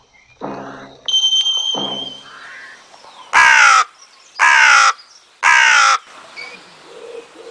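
A crow caws three times in a slow, evenly spaced series, loud and close, following a pair of shorter bird calls, with no talk over it.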